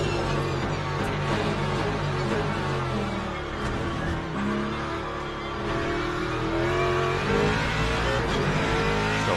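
A race car engine in the Le Mans Ultimate racing game drones loudly and continuously, its pitch rising and falling slightly with throttle as the car runs on, with no talking.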